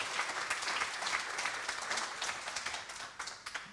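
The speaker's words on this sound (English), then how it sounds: "Another big round of applause, everyone, for our three special guests." A live podcast audience applauds its three guests with steady, dense clapping throughout, broad and sustained without talk.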